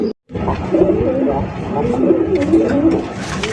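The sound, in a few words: pigeons cooing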